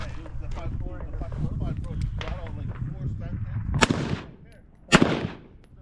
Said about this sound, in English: I made it to the rifle portion and I get started shooting.